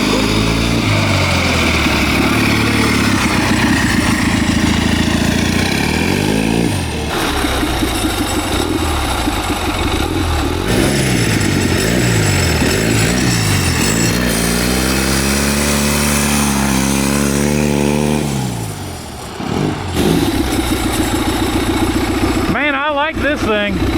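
A small generator engine, turbocharged and fitted to a 4-speed mini bike, runs steadily with a droning idle and repeated rising and falling revs, loud and close throughout, with people talking over it.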